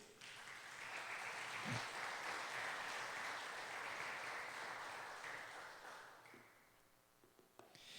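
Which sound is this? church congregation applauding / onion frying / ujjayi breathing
church congregation applauding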